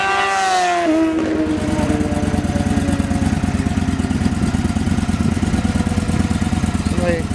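A 2015 Victory Gunner motorcycle idles steadily at a Florida dealership, its engine giving a close, loud, even throb that runs the whole time with a faint whine at the very start.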